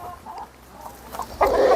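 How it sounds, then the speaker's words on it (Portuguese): Chickens kept on a small farm cluck in short, scattered calls, with a louder burst of clucking close by near the end and no voices. "E a gente decidiu diversificar um pouco e começamos a criar as galinhas"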